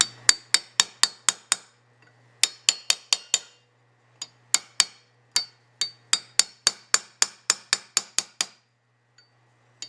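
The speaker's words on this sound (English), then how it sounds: "Get your chisel again. Usually it doesn't take much to do these." A chisel tapped to work loose a plug gives bursts of quick, sharp metallic clinks in fast runs with short pauses between, close and alone.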